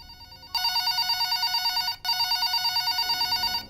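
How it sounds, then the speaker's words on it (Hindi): A telephone rings with a bright, warbling electronic tone in two long bursts separated by a short gap, loud and close. "उसे फोन के बजने की आवाज आती है।"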